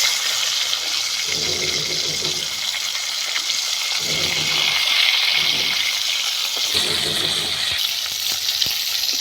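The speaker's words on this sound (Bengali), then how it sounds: "মাছগুলো এইভাবে আমি ভেজে নিয়েছি আমি লাল করে ভাজিনি হালকা করে ভেজে নিয়েছি" Hilsa fish frying lightly in oil for mustard hilsa, a loud, steady hiss of hot oil that swells and eases, with intermittent low bursts of movement in the pan.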